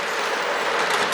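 A model railroad train runs on a home layout, giving a steady, close rolling rush of wheels on track with faint clickety-clack and no talking.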